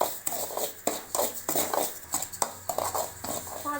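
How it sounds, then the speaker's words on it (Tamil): Wheat rava roasting in a little oil in a pan, stirred with steady rhythmic scraping pulses about every half second, close and loud, with no talking. "அதில் கொஞ்சம் எண்ணெய் ஊற்றி நல்லா வறுத்துக்கலாங்க"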